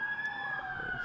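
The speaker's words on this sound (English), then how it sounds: "Sirens" Steady wailing city sirens sounding at moderate distance at night, holding tones over a low background hum, no talking.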